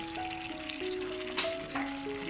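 Chicken frying in a pan for a karela gosht dish gives off a continuous sizzle with brief crackles and a stirring scrape. A steady tonal hum runs underneath, and no one talks.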